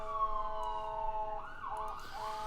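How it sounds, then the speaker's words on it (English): An ambulance siren wails steadily in a clear, sustained tone, then shifts into a rising and falling sweep partway through, with no talking over it. "As I hear the ambulance,"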